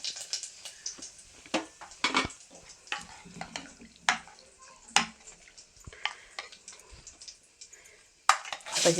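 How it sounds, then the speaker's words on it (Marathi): Curry leaves sizzle and spit in hot oil along with cumin and mustard seeds, sharp scattered pops and crackles in irregular bursts, close by, with a brief faint voice at times. "जिरे चांगले तडतडले कडपत्ता टाकूया"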